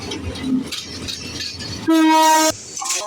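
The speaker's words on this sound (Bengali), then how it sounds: "এর মধ্যে একটা ট্রেন যাবে এই জন্য আমরা দাঁড়ালাম ট্রেনটা যাচ্ছে" A passing train beside the railway line, with a loud, sustained horn blast cutting in partway through, over rumbling wheels and outdoor background noise.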